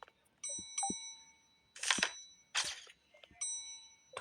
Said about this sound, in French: Ça spam la sonnette, c'est une dinguerie.